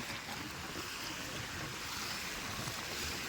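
Sea waves wash onto a black sand beach as a steady, broad roar of surf with wind noise, with no distinct individual breaks and no voices.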